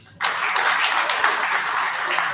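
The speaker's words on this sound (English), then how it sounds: "I think the treasurer deserves a louder applause" Applause breaks out at an organisation's annual general meeting for the treasurer, dense clapping starting abruptly and carrying on steadily at moderate loudness from a room of attendees.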